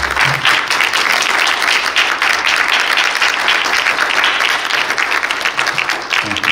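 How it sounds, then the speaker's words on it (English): Audience at a memorial service clapping together, a dense, loud and continuous wash of applause lasting throughout, with faint voices mixed underneath. "Let's clap, clap, clap."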